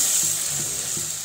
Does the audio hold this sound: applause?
no